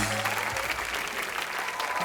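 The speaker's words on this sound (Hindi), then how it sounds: "जोरदार तालियां।" Studio audience on the Colors TV show Entertainment Ki Raat breaks into steady, full applause, with a voice briefly heard at the start.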